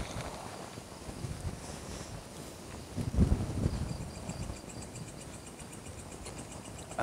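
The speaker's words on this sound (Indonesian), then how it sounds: "Anginnya gede banget, dingin." Strong, cold wind blows in broad gusts against the microphone, swelling to a louder buffet midway before settling back to a steady rush, with faint insect-like chirping above.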